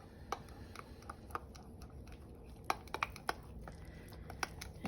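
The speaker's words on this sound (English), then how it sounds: "I'll go ahead and stir in what's on my spoon" A spoon stirs thick sourdough starter in a container, giving faint, scattered clicks and scrapes at an irregular rhythm over a low background hum, close and quiet.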